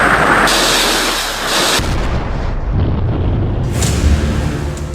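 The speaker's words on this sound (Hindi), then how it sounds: "फास्ट बोट से एंटी शिप मिसाइल फायर होती है और फिर टारगेट" An anti-ship missile launches from a fast naval boat and strikes its target: a very loud, roaring blast and rushing burn that continues throughout with a second surge toward the end, and no voices.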